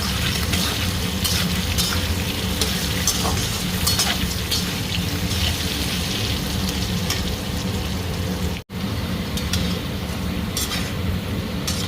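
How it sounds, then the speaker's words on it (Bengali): Potatoes fry in oil in a home kitchen, making a steady, dense sizzle with fine crackles close by. The sizzle continues throughout except for one very brief dropout. "আলুগুলো ভালো মতো ভাজা হয়ে গেছে,"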